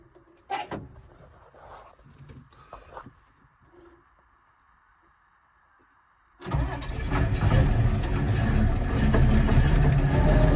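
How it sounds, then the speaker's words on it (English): Engine cold start on a cold morning: a few faint clicks and clunks, then the engine cranks and catches abruptly, settling into a loud, steady idle close by. "Next morning, cold start."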